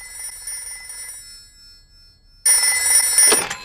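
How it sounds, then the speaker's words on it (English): A cartoon telephone rings in bright, repeated electronic trills, first faint then much louder and close, with no one talking over it. "Let's phone Dr. Hamster the vet"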